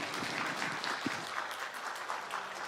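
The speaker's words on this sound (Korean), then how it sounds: "우리 큰 박수 보내주세요." A church congregation at a Sunday service applauding, a dense, steady wash of many hands clapping together, sustained and fairly close, with a brief low thump partway through.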